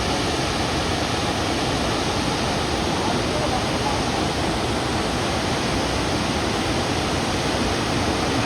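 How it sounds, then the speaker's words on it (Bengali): Sita waterfall near Ranchi, India, roars with a steady, dense rush of falling water. The sound is loud, close and unbroken throughout, with no other sound standing out. "এটা হচ্ছে সীতা ওয়াটারফল।"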